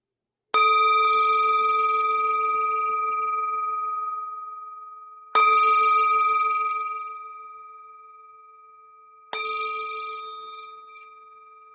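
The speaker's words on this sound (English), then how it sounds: "The sound of the bell returns us to our true home." A meditation bell is struck three times at spaced intervals, each clear ringing tone sustaining and slowly fading into silence before the next strike.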